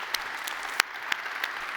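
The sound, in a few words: conference audience applause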